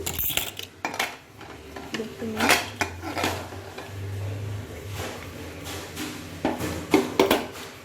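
A metal pressure cooker being opened after cooking basanti pulao, with clanking lid and metallic scraping, clicks and knocks at close range, while a person speaks briefly in between.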